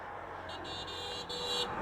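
A motorbike with a cut silencer pipe gives off a brief, steady, harsh exhaust drone that swells slightly louder toward the end.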